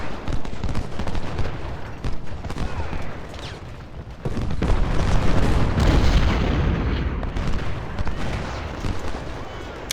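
Cannon booms and rattling musket volleys from a Civil War battle in the game Ultimate General: Civil War, dense overlapping blasts with heavier rumbling booms building in the second half, a voice faintly under the din.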